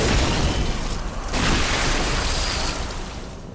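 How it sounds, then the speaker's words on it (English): Explosion in Bloodborne, a loud broadband boom that swells and then rumbles and decays over a few seconds with no talk. "It's a yummy explosion."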